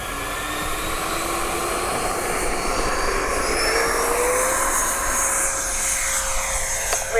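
A Freewing 70mm Me 262 RC model jet takes off, its ducted-fan engine a loud, steady high-pitched whine that climbs gradually in pitch as it accelerates, a broad rushing roar underneath, close and continuous throughout.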